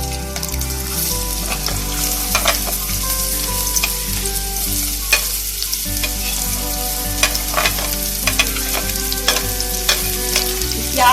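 Chopped onions hiss and crackle in hot mustard oil, a loud, close, continuous sizzle with intermittent clinks and scrapes from stirring.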